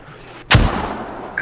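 Mortar round fired in the military shooter game Squad, a single sharp, loud launch blast that rings out and decays, then a faint second sound near the end.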